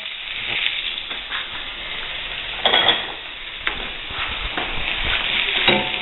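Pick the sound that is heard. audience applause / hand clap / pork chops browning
pork chops browning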